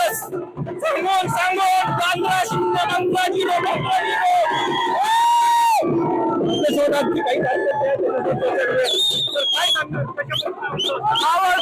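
Party workers celebrate a ZP election victory in Maval with loud, overlapping shouts, whoops and chanting voices. A sustained horn-like tone cuts through midway, and the crowd keeps up its noisy cheering throughout.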